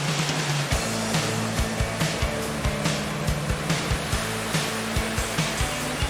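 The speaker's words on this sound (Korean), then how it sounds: "옆에 지금 물도 흐르고 있고 소리만으로도 이미 벌써 너무 힐링되고 시원해지는 것 같습니다" Stream water running steadily beside a waterfall picnic spot in Colombia, a continuous broadband rush close by, with a low engine-like hum and faint periodic thumps underneath.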